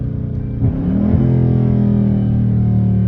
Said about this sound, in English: just hear it upshift and still have the whine?